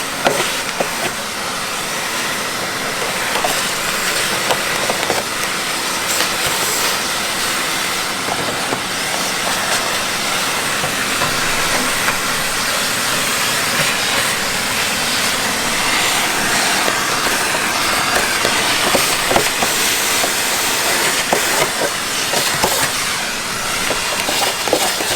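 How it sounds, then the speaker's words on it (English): A vacuum cleaner sucks debris out of an RV rooftop air conditioner unit, a loud, steady roaring hiss that runs unbroken with faint rattles mixed in. "Alrighty, so we're going to go ahead and vacuum."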